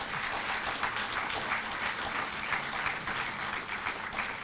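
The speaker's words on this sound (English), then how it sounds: "They need applause for it." Audience applause at a valediction ceremony for a batch of Indian Revenue Service officer trainees, a dense, even patter of many hands heard at moderate distance and fairly quiet throughout.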